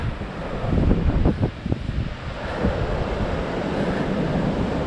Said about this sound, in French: Ça c'est de la mer déchaînée les gars, avec des belles vagues